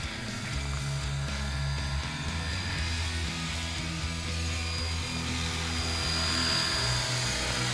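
An RC model UH-1 Army helicopter, a 450-size H1, flies an automatic figure-eight pattern, its rotor and motor keeping up a steady, close whirring buzz that holds throughout with no talk.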